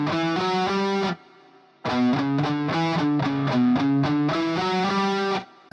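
Fast electric guitar shred pattern through distortion, rapid picked notes in two quick bursts separated by a short gap, loud and close with no talking.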